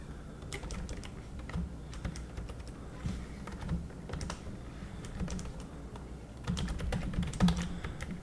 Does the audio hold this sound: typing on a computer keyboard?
yes